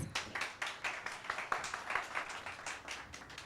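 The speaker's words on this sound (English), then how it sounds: "Let's give a better round of applause." A small audience at a student presidential debate claps steadily for several seconds, dense overlapping hand claps at moderate volume with an even, continuous rhythm.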